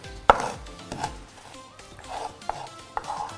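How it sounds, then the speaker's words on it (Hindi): Roasted cumin seeds are crushed coarsely after toasting on a griddle, giving sharp, irregular knocks and thuds, one loud strike followed by several lighter hits. "जीरे को मैंने भून लिया है तवे के ऊपर, इसे क्रश करना है बस।"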